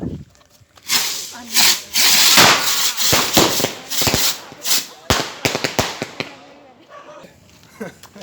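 Sky rocket fireworks are lit and launched nearby, giving a rapid string of sharp cracks, pops and fizzing whooshes of varying loudness over several seconds, with voices heard between the bursts.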